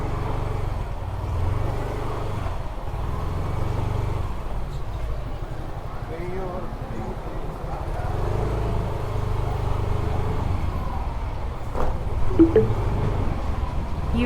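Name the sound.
trucks in road traffic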